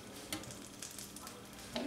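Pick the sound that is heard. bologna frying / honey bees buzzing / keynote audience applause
bologna frying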